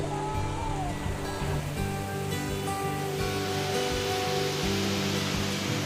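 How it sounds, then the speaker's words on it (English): Steady broadband roar of falling water from a cool, shallow-pooled waterfall in a forest on Buton island, a continuous rushing wash with no speech, constant in level throughout. "enjoyed a quick swim under the cool waterfall"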